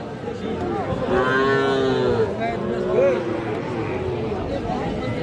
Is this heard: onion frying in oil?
no